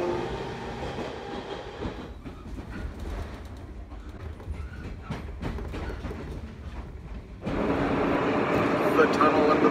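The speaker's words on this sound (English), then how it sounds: "Here comes my train." A local train in Japan rumbles and clatters as it pulls into a station, low mechanical noise rising, then a louder surge of station noise near the end.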